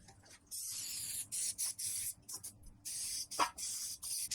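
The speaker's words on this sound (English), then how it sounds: "And I'm also just going to spray the pan." Several short bursts of cooking spray hiss close by onto a cake pan, coming in quick separated pulses with brief pauses between them.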